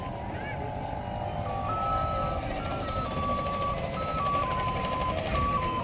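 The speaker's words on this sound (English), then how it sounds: "When you hear that little tune, it's because the baker is coming on his tuk-tuk." A bread seller's tuk-tuk in Galle Fort, Sri Lanka, plays a thin, stepping electronic jingle over a steady engine rumble and street noise, moderately close.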